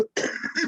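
A single short, close cough bursts out with a couple of rough pulses, preceded by a brief vocal sound.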